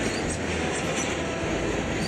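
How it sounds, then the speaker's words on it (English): A freight train led by locomotive 5004 rolls through Echo Canyon, Utah, in summer, a loud, close, continuous rumble and rush of wheels on rails with no voices. "got pictures of 5004 as it rolls on through Echo Canyon"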